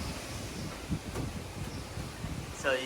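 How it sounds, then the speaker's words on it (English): Hurricane Ian's winds gust through trees in Cape Coral, Florida, a rushing, buffeting roar with microphone wind noise and bursts of rustling, fairly loud and continuous. "Winds are coming from east to west right now, so whew, it's pretty wild"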